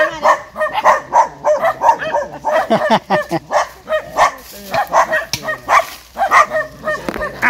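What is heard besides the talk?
dogs barking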